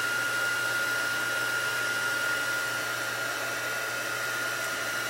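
A heat tool for embossing blows hot air in a steady, loud, continuous whoosh with a faint high whine, running unbroken throughout and close by, with no voices.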